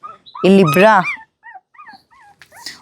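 A newborn puppy from a litter of seven nurses beside its thin mother dog, giving soft, thin whimpers and short whines. A louder yelping burst comes early, and a person talks nearby.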